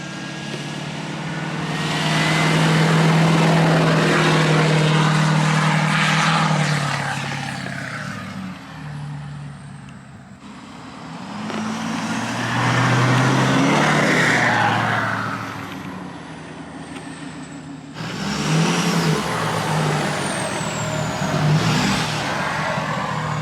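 A 1968 Ford truck fitted with a 6.7 liter Cummins diesel rumbles close by, its engine revving up and easing back in three long swells with a deep, throaty drone.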